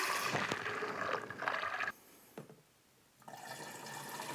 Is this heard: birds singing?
no